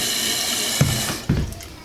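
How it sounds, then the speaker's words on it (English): Water runs into a toilet bowl after a flush with a repaired Fluidmaster fill valve, a close, steady trickling rush with a couple of brief gurgling pulses. "It's filling the bowl, which is good."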